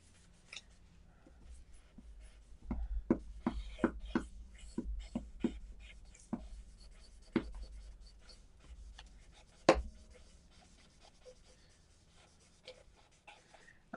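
Pen or pencil strokes on paper during an art livestream, a run of short scratchy marks roughly every half second in the middle stretch, then sparse faint strokes, close and fairly quiet with no talk.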